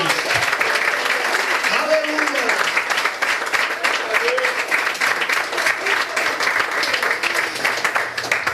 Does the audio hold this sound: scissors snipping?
no